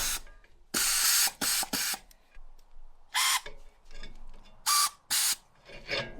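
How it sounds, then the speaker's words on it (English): Air impact wrench working on a bolt of an old tractor during a water pump job, firing in several short, loud hammering bursts separated by pauses, close by, with no talk. "Let's try the wrench, the air wrench on it."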